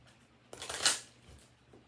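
Tarot cards being shuffled and drawn, one brief, soft riffling burst rising and fading within a second against a quiet room.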